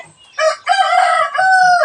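A rooster, one of three cocks being moved away from brooding hens, crows loudly and close by in one long drawn-out call, with faint clucking of fowl beneath.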